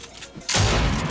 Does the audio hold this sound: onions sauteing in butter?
no